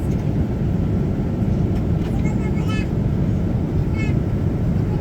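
Steady, loud broadband cabin roar of an airplane in flight on a trip to Switzerland fills the whole stretch, with faint chirpy sounds over it.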